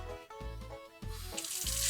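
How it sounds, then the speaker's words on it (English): Warm water pours from a tap into a sink with the drain plugged, a steady close-up gush with gurgling bursts and a brief pause as it fills. "wait until it fills up with warm water"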